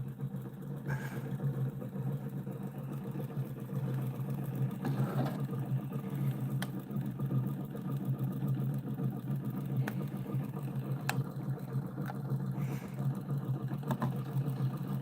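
A homemade pulse motor running on AC and DC power just under 500 RPM gives a continuous low mechanical hum with a faint, regular pulsing and occasional light ticks, steady throughout with no talking.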